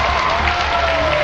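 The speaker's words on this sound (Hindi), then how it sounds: "तालियों की आवाज की कड़कड़ाहट से किसी भी इंसान का डर जाना लाजमी था।" Applause ringing through an empty auditorium, a steady dense wash of clapping held at even loudness throughout.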